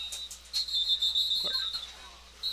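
At a high school football game, a referee's whistle gives a sustained shrill blast with a few shorter chirps around it, fairly near over faint background noise.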